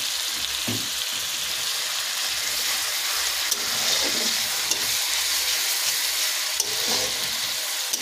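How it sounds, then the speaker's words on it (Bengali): Onions stir-fry in a pan for an aloo kosha dish, a soft steady sizzle broken by scraping stirs and a few light clinks, fairly quiet and close with no talk. "পেঁয়াজটাকে এবারে ভালো করে কষিয়ে নেব।"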